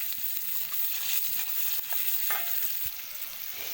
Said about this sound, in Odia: ପିଆଜ ପକାଇବା।